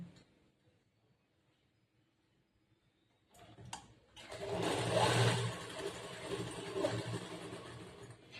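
An electric sewing machine runs in bursts, stitching churidar pant pieces, starting after a quiet stretch and then whirring steadily and fairly loud with slight pauses in speed.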